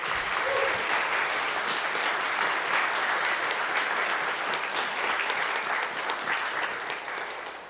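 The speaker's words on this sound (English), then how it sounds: "all the other founders deserve another round of applause." A roomful of people at an anniversary gathering claps in a sustained, even burst of applause for the founders, holding steady for several seconds before fading slightly toward the end.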